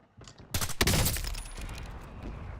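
A sniper rifle shot rings out in a Call of Duty match, a sharp loud crack followed by a rumbling decaying echo over about two seconds, with no voices.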